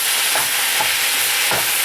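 Singapore mai fun noodles stirred in a hot pan, a steady sizzle of frying with repeated scraping strokes, close and fairly loud, no voices.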